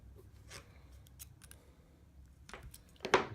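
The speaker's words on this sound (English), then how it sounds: "You just want to slide them into place, kind of give a little turn until they click" Small metal pin removal tool working into a Bobcat 7-pin trailer connector, giving a few sharp close clicks and scrapes spread out, ending in a brighter snap as it seats, with no voice.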